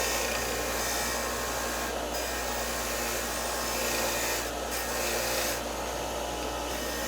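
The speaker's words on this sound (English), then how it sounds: "And that's how I get the carbon off the valves too." Carbon is scraped off the valves of a 1983 Yamaha XJ900 Seca engine during a top-end teardown, a steady, close, hissing rasp that goes on without a break.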